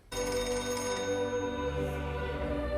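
A telephone in a film rings on and on unanswered, with a sustained bright ringing tone starting abruptly and holding loud and close throughout, with no talk.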